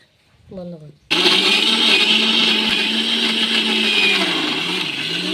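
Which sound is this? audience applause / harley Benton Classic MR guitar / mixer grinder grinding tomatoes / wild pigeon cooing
mixer grinder grinding tomatoes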